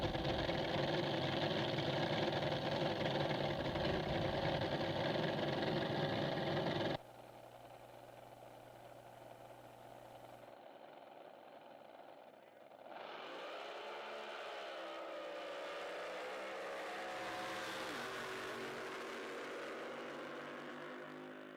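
Racing drag boats Bad Influence and Throttle Junkie roar in a loud, sustained engine blast that drops off abruptly, followed by a fainter, shifting engine drone as the boats run on in the distance.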